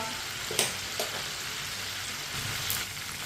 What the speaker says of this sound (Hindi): अब ये वाली साइड से भी 3 मिनट के लिए फ्राई होने देते हैं।